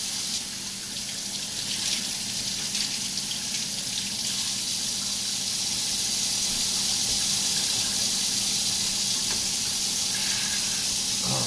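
Spinach rinsed under a running kitchen tap, a steady broadband rush of water splashing into a sink that holds on evenly for the whole stretch, close and fairly loud with no talk.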